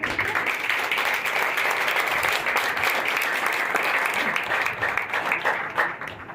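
An audience at a ceremony honouring a doctor at a Panchakarma training camp in a gurukul claims applause, heard as sustained, dense clapping from many people that fills the room and carries on steadily for several seconds with faint voices mixed in.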